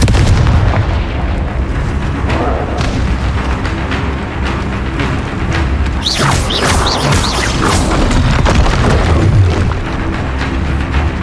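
Confringo explosive curse blasts in the Hogwarts Legacy video game, a steady run of loud booming, crackling detonations and crashing impacts with no pause, over dense low-end rumble.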